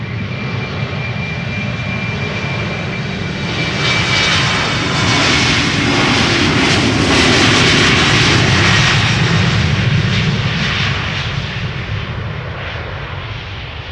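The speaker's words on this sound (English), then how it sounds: "KLM flight 925 to Edinburgh is what we are now looking at. It is an Embraer 190." A KLM Embraer 190 jet takes off, its engine roar building to a loud broad rush that peaks midway and then eases as it passes, with steady close rumble and no talk.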